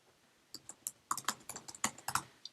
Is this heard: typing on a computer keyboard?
yes